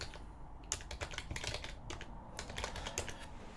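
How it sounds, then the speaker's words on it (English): Close-miked computer keyboard under steady typing, a brisk run of crisp key clicks with a few brief pauses and no talk. "Ctrl-T, and then we type in mirror list."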